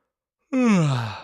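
A deep yawn: a sudden voiced breath in that slides slowly downward into a long, fading exhale, close and alone after a moment of silence.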